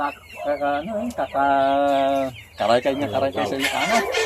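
Free-range native chickens cluck and call close by in a lively, overlapping chorus, with one drawn-out crowing note in the middle, while a person talks over them.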